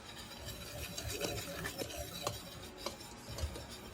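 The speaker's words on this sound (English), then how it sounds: "Now mix the dry ingredients together until combined" Flour, baking powder and salt whisked together in a bowl for a raspberry pound cake, giving a steady run of soft, rhythmic scraping and rasping strokes close by, with no talking.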